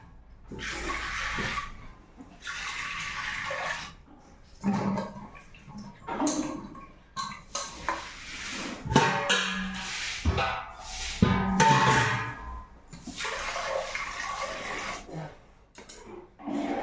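Water is tipped out of a cooking pot after rinsing and fresh water is poured back in, heard as several separate splashing, gurgling bursts with short quiet gaps between them.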